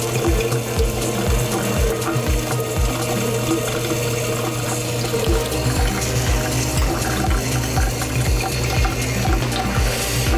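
Water pours continuously into a Jobo CPP/2 film processor tank with a steady, gurgling rush and a rhythmic pumping pulse underneath, close and fairly loud.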